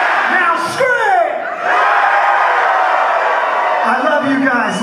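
Live concert crowd screaming and yelling in a loud, sustained roar, close and dense, with a brief dip before swelling again.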